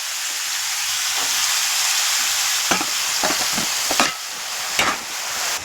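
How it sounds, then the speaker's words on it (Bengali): Chopped bottle gourd greens hiss and sizzle steadily in a hot frying pan, joined by eggplant and potato pieces. Several close scraping stirs and clacks cut through the continuous frying noise, with no speech. "এই যে কেটে ধুয়ে রেখেছি লাউ শাক তুলে দেবো।"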